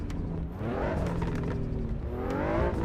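Race car exhaust burble from the video game Assetto Corsa EVO: a steady, loud engine drone with rising and falling pitch sweeps and popping crackles, continuous and close, without speech.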